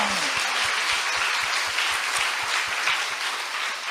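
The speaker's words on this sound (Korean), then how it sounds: "박수로 하나님께 영광" A church congregation claps together during a sermon at a patriotic rally, a broad sustained burst of applause that settles into a steady beat of hands striking roughly in unison, loud and close for the whole stretch.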